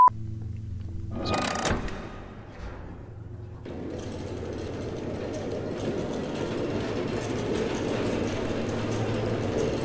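A train runs in Bendy and the Ink Machine: a brief clattering burst, then a steady rolling rumble with a mechanical churn that carries on to the end.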